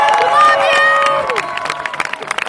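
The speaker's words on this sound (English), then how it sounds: "Big round of applause for Diag and show him how much we love him." A crowd at the Hash Bash outdoor rally cheers and applauds, a loud shout from one voice over sustained cheering that breaks into scattered clapping near the end.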